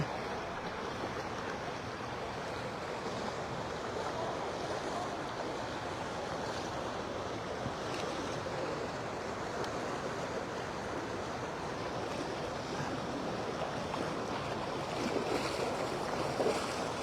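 Floodwater from the overflowing Sai River rushes beneath a bridge at Mae Sai on the Chiang Rai border with Myanmar, making a steady, broad roar of churning water mixed with gusty wind noise on the microphone.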